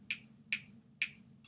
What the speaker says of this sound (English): You're snapping your fingers.